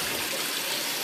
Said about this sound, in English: I'm just going to run that under cold water.